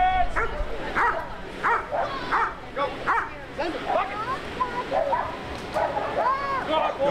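Turbo, a seven-year-old Salem police dog, barks and yips repeatedly in close, loud bursts during a bite apprehension demonstration at a National Night Out event, with someone talking over the barking.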